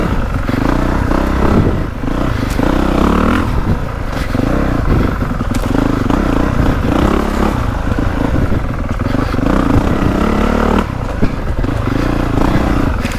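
A 2025 Honda CRF450R or 2024.5 KTM 450SXF Factory Edition 450 dirt bike rides a woods loop, its engine loud and close, revving up and down continuously with clattering and scraping over the terrain, no talk.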